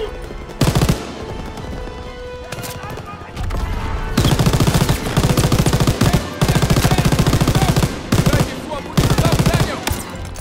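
Bursts of rapid automatic gunfire from Call of Duty WWII, loud and close, come in repeated volleys separated by brief pauses.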